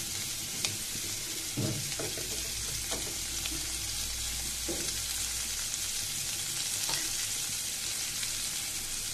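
A large chopped onion sizzles in a small amount of hot oil, a steady close frying hiss with a few soft stirring knocks, no voices.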